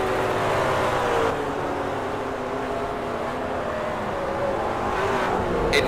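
GT3 race cars, McLarens among them, racing at Canadian Tire Motorsports Park, with a steady, loud engine roar and shifting pitch as cars accelerate and pass, continuous throughout.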